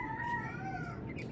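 Chickens in a backyard farm give soft, rising calls over a steady bed of farmyard noise, close by and moderately loud through the short stretch.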